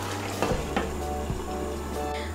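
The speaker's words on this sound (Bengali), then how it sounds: "এই দেখুন ঝোলটা ফুটে উঠেছে।" Soybean curry gravy bubbling and sizzling in a pan, a steady close simmer with a few brief soft clinks or stirring knocks over the top.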